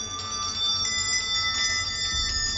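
Servant call bells at the House of Dun in Angus, Scotland, each with its own tone, ring in a steady sustained chime with layered clear pitches, loud and close, with no talk over them.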